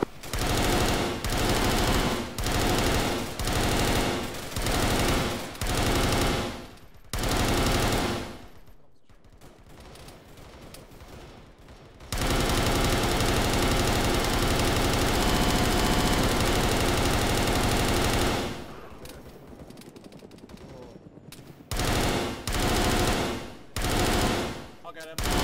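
Bursts of automatic gunfire in an Arma 3 firefight, loud repeated volleys in rapid rhythm with a lull of quieter rumbling in the middle before sustained and then chopped firing resumes.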